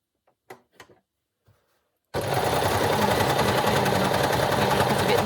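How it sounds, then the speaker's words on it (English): An overlocker sewing machine starts after a couple of seconds of near silence with a few faint handling taps, then runs with a loud, steady, fast mechanical whir and buzz right up close. "just over to the overlocker now"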